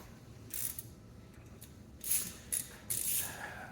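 Bolts being tightened on an engine's aluminum bottom-end cover with a ratchet wrench, several short bursts of quick clicking ratchet strokes separated by brief pauses, close and fairly quiet, no talking.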